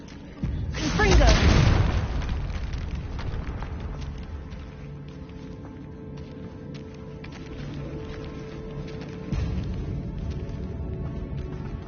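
A Confringo fire-blast spell going off in a Harry Potter video game, one loud booming explosion early on that fades into a long rumbling tail, with a second lower thump near the end.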